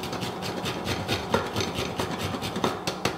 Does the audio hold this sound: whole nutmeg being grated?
yes